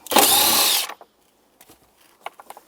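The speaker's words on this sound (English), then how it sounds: "There's 6mm bolts, but you're going to use a 10mm socket. Extract them out." A power tool fitted with a 10mm socket spins out a 6mm bolt on a 2005-2014 Toyota Tacoma, one short loud burst of whirring followed by faint clinks and handling noises.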